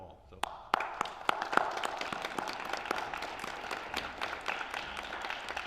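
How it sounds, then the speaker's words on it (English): Applause from an audience at a high school National Honor Society induction ceremony, honouring the parents: a burst of claps starts sharply and holds steady at moderate volume for several seconds. "I'd like to applaud you all."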